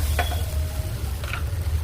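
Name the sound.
stirring turmeric into frying tamarind chutney mixture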